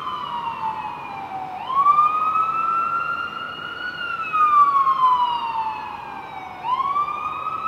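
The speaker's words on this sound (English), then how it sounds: "I don't know if this siren is" An emergency vehicle siren wails on a Miami street, a loud sustained tone sweeping up and down in long repeating cycles, with no voices.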